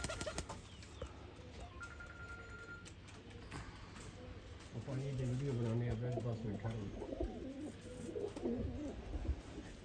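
Pigeons coo in a low, throaty, repeated burble that swells in the second half, set against a soft background hum with a voice nearby.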